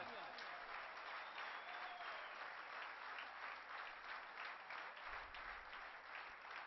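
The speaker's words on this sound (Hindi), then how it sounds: "इस सरजमीन के लिए, इस पाक वतन के लिए बहुत जोरदार तालियां।" Sustained applause from an audience at a Pride of Performance award ceremony, dense and steady throughout with no pauses.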